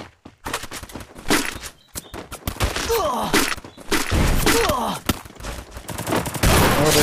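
Rapid gunfire bursts from a shooter video game, dense volleys of close shots with thuds in between, loud and continuous throughout, with faint game voices in the mix.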